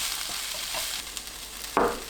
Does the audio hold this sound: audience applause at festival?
no